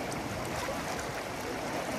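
Fast-flowing Ganga river at Shivpuri near Rishikesh, a steady broadband rush of churning water close by, continuous and even throughout with no voices.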